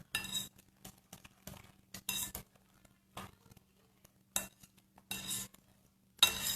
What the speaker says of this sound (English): So now I'm going to mix that all in.